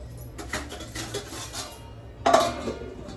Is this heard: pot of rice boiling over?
yes